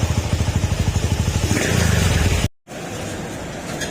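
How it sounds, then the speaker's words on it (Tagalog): A Kawasaki TMX155 motorcycle engine warming up idles with a steady, rapid putter, running a few seconds before cutting out briefly, then a lower rumble continues; the exhaust has a misfire and backfires. "Painitin muna natin kasi mamamatay daw yun kapag mainit yung makina."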